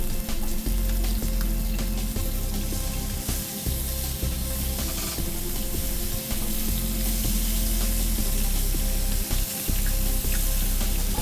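Scallops sear in hot oil in a pan, giving a steady, dense sizzle that holds for the whole stretch, with a faint watery undertone and occasional soft clinks, close and fairly loud with no talking.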